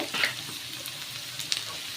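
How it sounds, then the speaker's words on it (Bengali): Potatoes with green chilli frying in a pan, a steady close sizzle with a couple of light stirring scrapes and clinks, no voices. "আলুটা সুন্দর করে ভেজে নেবো ওর মধ্যে একটু কাঁচা লঙ্কাও দিয়ে দেবো"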